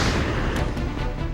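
A dense, booming gunshot-like blast fills the whole moment, loud and rumbling with a sustained low roar and no voices over it.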